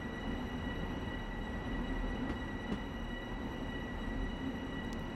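A Long Island Rail Road commuter train in Train Sim World runs steadily with a low rumbling drone and faint rail noise, heard from the rear of the train with no talk.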